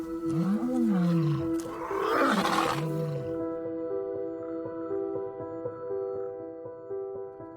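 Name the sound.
lions roaring, pride answering from another side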